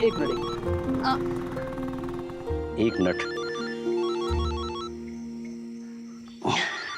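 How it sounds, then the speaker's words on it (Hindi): A telephone rings with a repeating electronic tone while people talk briefly nearby, in a Hindi-language crime drama scene. "किसका फोन है?"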